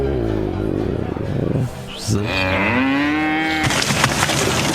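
A cow moos in a long, drawn-out call that rises and then holds, loud and close, with a voice talking before it and noisy rustling after.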